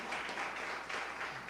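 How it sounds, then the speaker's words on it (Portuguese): A church congregation applauds together, a brief, steady wash of clapping at a moderate distance filling the room. "Dá uma salva de palmas para Jesus aí, igreja."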